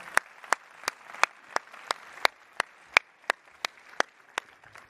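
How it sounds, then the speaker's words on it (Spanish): Audience applause at a Dell Technologies Forum 2023 event in Spain as a presenter is called to the stage: about fourteen sharp, evenly spaced claps ring out over a soft, continuous bed of broadband clapping noise, moderately distant. "Un aplauso fuerte para Marcos"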